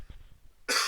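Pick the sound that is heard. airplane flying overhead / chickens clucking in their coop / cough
cough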